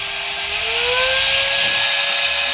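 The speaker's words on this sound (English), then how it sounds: "the top button here turns on the blower" A Reesibi C1 electric camera and lens cleaning blower runs close up with a loud, high-pitched motor whine whose pitch climbs steadily as it switches to its faster second gear.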